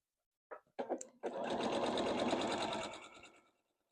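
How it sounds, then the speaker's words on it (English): A sewing machine stitches through quilt fabric with a rapid, close, humming rattle lasting a couple of seconds after a few short clicks, heard alone at low volume. "So I'm going to sew right through this"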